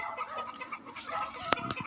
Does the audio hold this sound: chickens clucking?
yes